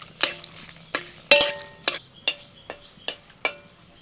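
Bay leaf and dried chillies tempering in hot mustard oil: a series of about nine sharp crackling pops and spits at an uneven rhythm, close and fairly loud over a quiet background.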